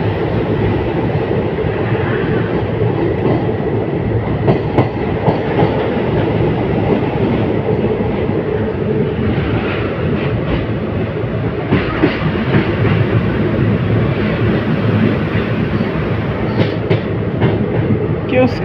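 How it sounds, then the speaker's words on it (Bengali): A train runs past close by near the Farakka barrage on the Ganges, where open gates send water roaring. It makes a loud, steady rumble with rhythmic clickety-clack from the wheels throughout, and no one speaks. "আর ট্রেন একদম যাচ্ছে"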